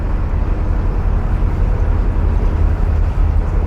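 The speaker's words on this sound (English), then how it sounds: "I think that's the chap's boat behind us actually." A narrow boat's engine rumbles low and steady inside Harecastle Tunnel on the Trent & Mersey canal, a dense, enclosed drone that holds constant and loud for several seconds without any talking.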